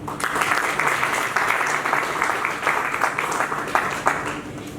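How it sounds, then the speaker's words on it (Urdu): Audience applause at a book launch for a poetry collection, a steady dense wash of clapping from a seated crowd that holds at an even level across the whole stretch, with no voices rising above it. "آپ سب کی بھرپور تالیوں میں"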